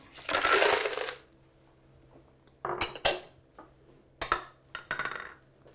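Ice cubes dropped into a blender jar for a blueberry raspberry smoothie, a first loud clattering burst followed by several shorter rattling knocks and clinks, close by with no talking.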